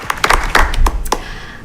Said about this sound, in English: So I feel like a moment of applause for all of our staff for all of their hard work